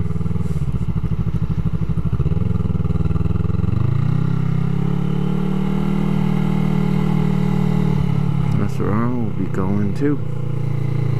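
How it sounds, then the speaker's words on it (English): A motorcycle engine runs with its mufflers removed, giving a loud, raw, continuous drone that shifts pitch as it revs up and settles, with brief voices breaking in near the end. "It's very sluggish without the mufflers."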